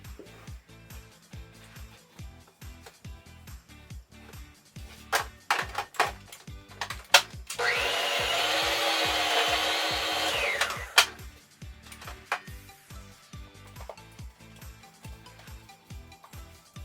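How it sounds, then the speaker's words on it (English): An electric hand mixer beats powdered sugar frosting for a Snickers cake, whirring loudly and steadily for about three seconds in the middle, with clicks and taps before and after. "I'm going to give this a mix so the powdered sugar doesn't fly everywhere once I turn this handy dandy mixer back on"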